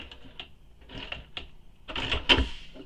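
A sewing machine back stitching at the corner of a mini backpack, short mechanical bursts of whirring and clacking separated by pauses, the last burst loudest and close.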